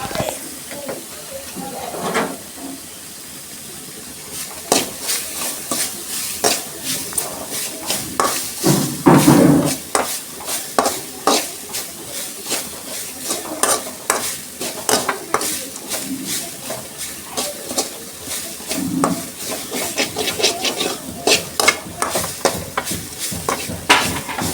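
Ridge gourd pieces stir-fried in a pan, with an intermittent hiss and sizzle broken by repeated scraping and tapping of a spatula, and a voice talking at times over the cooking.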